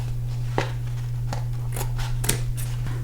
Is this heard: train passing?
no